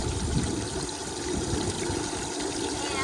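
Water running steadily into a new bait tank, a continuous rushing trickle at moderate level, close by with no voices.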